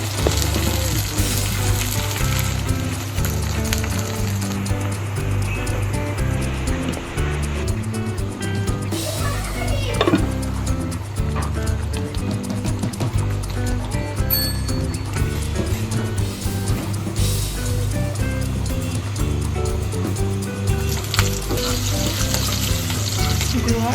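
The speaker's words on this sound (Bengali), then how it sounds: "আলুর ভেজে নিচ্ছি বিরিয়ানির জন্য" Potatoes fry in a pan for beef biryani, a dense, continuous sizzle and bubbling with occasional stirring clatter, loud and close throughout.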